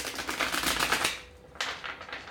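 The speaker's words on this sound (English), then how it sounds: "I'm shuffling them backwards" Tarot cards shuffled by hand, a quick run of crisp papery riffles and slaps, close and fairly loud, pausing briefly before another burst of card flutter.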